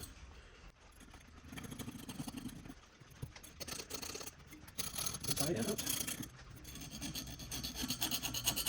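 Back-and-forth strokes of a file rasp quietly along the edge of a broken clock mainspring, rubbing steadily through several passes with short gaps between them.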